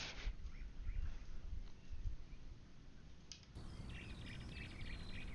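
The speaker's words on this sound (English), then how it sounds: "You hear the birds chirping." Birds chirp in the Flight Simulator 2020 game after an aircraft has been shut down, giving short, faint tweets over a low ambient hiss.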